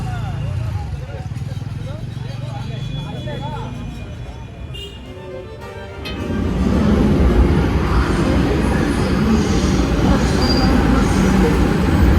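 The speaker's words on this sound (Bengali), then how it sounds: "আমরা ওখানে মেট্রো রেলে করে চলেছি পার্ক স্ট্রিটে" A Kolkata Metro train rumbles and hums, quieter at first, then growing into a louder, steady rolling roar as it picks up speed; a voice talks over it.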